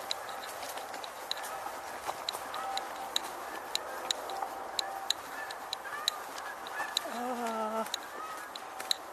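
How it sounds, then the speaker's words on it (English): Geese honk as they fly in, with a chorus of calls over a steady outdoor background and a clearer run of honks near the end. Sharp clicks recur throughout, and a person talks faintly underneath. "Sounds like we may have more geese coming in."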